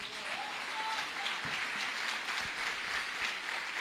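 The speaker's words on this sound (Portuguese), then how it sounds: "Quem pode aplaudir o Senhor por isso?" A church congregation applauding during a sermon: a soft, distant, diffuse wash of clapping, faint and continuous, with a few brief higher tones over it.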